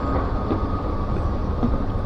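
A subway train in an underground station in Thailand, a loud steady rumble and rolling roar throughout the short stretch, with no talking.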